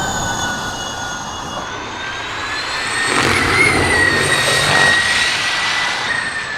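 Dodge electric car giving off a synthetic jet-engine-like whine, steady high tones over a broad rushing roar that swells louder midway, with no talk.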